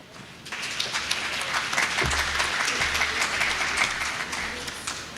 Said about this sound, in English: may I ask that side to continue clapping?